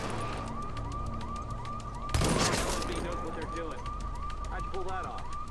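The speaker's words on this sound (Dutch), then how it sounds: "Kan iemand even dit alarm uitzetten?" An alarm in Tom Clancy's The Division video game sounds as a steady pulsing electronic tone with rapid repeated clicks, joined midway by a burst of gunfire and crashing noise, with a voice talking underneath.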